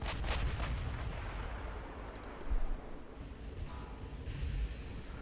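Naval guns fire at an armored cruiser in Ultimate Admiral Dreadnoughts, with a few muffled, distant booms over a low rumbling sea-and-wind bed.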